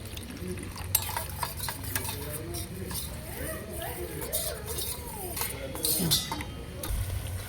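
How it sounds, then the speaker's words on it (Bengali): A spoon stirs a spoonful of arrowroot into water to make a slurry while cooking rohu fish with capsicum, soft scraping and clinking of utensil against a bowl with faint background kitchen noise and some talk. "এক চামচ অ্যারাটুট আমি জল দিয়ে ভালো করে গুলিয়ে নেব"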